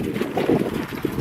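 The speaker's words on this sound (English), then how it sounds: "Wait for the gust to go through." Gusty outdoor wind buffets the microphone in a steady low rumble, swelling slightly at moments over about a second, with no talk.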